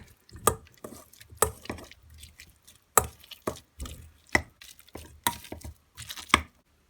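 Mushroom pie filling of dried garlic and egg being mashed in a bowl, a series of close wet squelching and tapping strokes in an uneven rhythm, with no voices.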